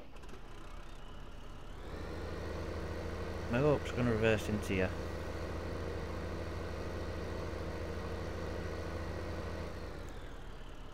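Steady low drone of a big tractor engine idling in the Farming Simulator 15 game, constant throughout, with someone talking over it partway through.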